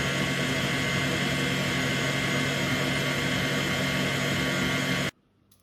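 An electric mixer beats cubed butter with icing sugar, a steady loud whirring drone that runs unbroken for about five seconds and then cuts off abruptly into near silence.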